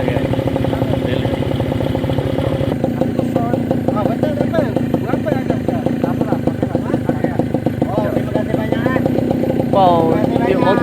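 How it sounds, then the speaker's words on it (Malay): A motorcycle on a jungle trail ride toward the Harimau Berjemur waterfall idles close by, a steady rhythmic putter that runs unbroken through the whole clip. "Wow, dia motor lagi."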